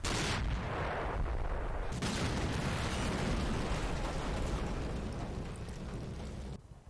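Heavy gunfire and explosions from tanks in Combat Mission Black Sea, a loud, dense rumble of booming shots that continues without a break before cutting off near the end.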